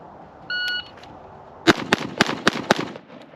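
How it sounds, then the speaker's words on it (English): A short electronic shot-timer beep sounds, then after a pause a rapid string of five or six loud, sharp rifle shots rings out on a live-fire range during a 3-gun drill. "Now I'm shooting towards the bottom of the A zone"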